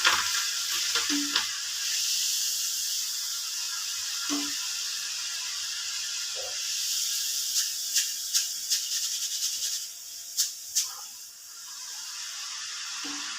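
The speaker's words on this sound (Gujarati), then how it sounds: "થોડી તળીને આપણે આ દાળ આવી રીતે તળી લઈશું." Moong dal frying in oil over a low gas flame gives a steady, soft sizzling hiss throughout, with a few light clicks and taps from the pan.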